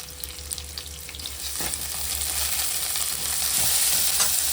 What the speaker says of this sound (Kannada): ಬೆಳ್ಳುಳ್ಳಿ ಶುಂಠಿ ಬೆಳ್ಳುಳ್ಳಿ ಪೇಸ್ಟ್ ಹಾಕಿದ್ದೀನಿ. ಇದು ಹುರಿದು ಹಾಕೋದು.